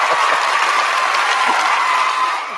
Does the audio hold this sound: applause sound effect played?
yes